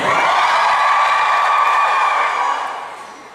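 A live audience at a Pottermore fan event cheers for Gryffindor. Shouts and whoops from the crowd build into a loud, sustained roar that fades over the last second.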